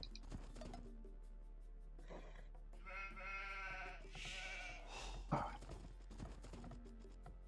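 Sheep bleating in the Age of Empires II video game, several wavering bleats rising over steady game ambience, with a few clicks and hoofbeat-like taps around them.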